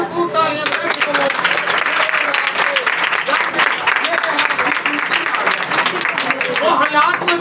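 Congregation clapping loudly and steadily for Jesus during an Ascension Day church service, a dense continuous roar of hands with voices and shouts rising through it, close and sustained throughout.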